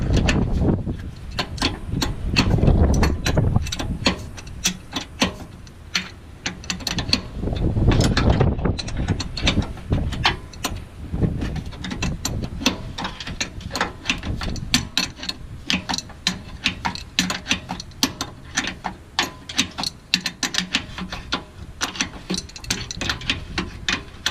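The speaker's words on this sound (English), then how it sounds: "You could use the ratchet also if you want." Ratchet wrench tightening a lower control arm bushing bolt on a 2003 Jeep Wrangler Rubicon, rapid metallic clicking in repeated bursts, close and steady with short pauses between strokes.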